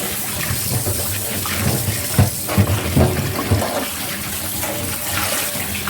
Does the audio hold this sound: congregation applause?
no